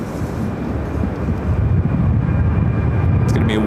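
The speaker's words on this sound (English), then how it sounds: "Should be the next takeoff on 7 left." A Honeywell Boeing 757 rolls for takeoff on runway 7 left at Phoenix airport, a heavy low jet rumble building in strength and sustained throughout, with wind noise around it.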